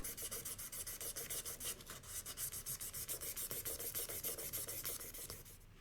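Sandpaper of 400 to 2000 grit rubs scratches out of a watch case in quick, regular back-and-forth strokes, a close, dry rasping rhythm that goes on steadily and stops near the end.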